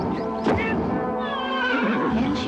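Horses whinny loudly in a studio fairy-tale production, the neighs rising and falling across the clip, with faint hoof clip-clops underneath and no talking.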